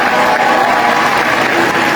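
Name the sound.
audience applause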